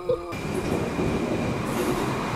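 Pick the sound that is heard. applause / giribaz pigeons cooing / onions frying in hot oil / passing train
passing train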